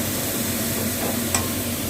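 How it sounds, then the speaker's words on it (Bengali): Paste of coriander leaves, tomato, green chili and garlic frying in a pan while being stirred: a continuous moderate sizzle with a soft scraping texture and one small clink. "এবার দিচ্ছি ওই ধনেপাতা, টমেটো, কাঁচা লঙ্কা আর রসুন, এই পেস্টটা দিয়ে দিলাম"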